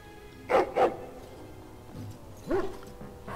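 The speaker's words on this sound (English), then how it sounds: "Oh, the dog's happy to see you." A dog in the Dragon Age Witch Hunt video game barks happily, two quick close barks followed after a pause by a third, over a quiet game background.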